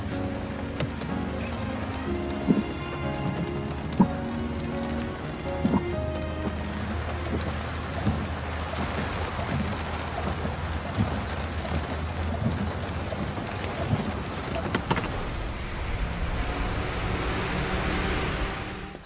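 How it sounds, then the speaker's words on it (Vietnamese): Rain falls steadily and fairly loud, with scattered sharp drop impacts and occasional low rumbles like distant thunder, continuing without talk throughout. "Chết tiệt, sao lại mưa nữa rồi?"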